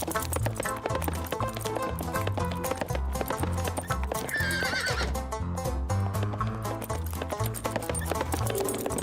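A cartoon horse whinnies and neighs over steady clip-clopping hooves, with busy music playing loudly throughout.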